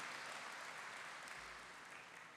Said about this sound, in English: Let us appreciate our sponsors with a big round of applause.